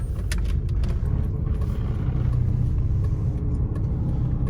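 A car drives along a road in Abuja's Maitama district, giving a steady low engine and tyre rumble heard from inside, with faint clicks and no talking.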